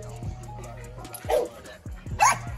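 Gamebred pit bull dogs in a kennel yard give short yips and whimpering whines, a few sharp calls rising over background clatter and low voices.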